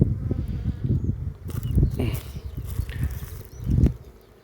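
A low, persistent buzzing of bees around a hive hums throughout, with insects droning close by and a few brief higher whirs passing over.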